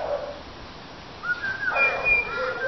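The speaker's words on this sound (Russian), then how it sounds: "И птицы, слышите, поют вообще." Thin whistled bird notes sound over a quiet background, a few short calls rising and sliding, fairly close and moderately clear, no voices, near a tall tree on an evening waterfront on the Gold Coast, Australia.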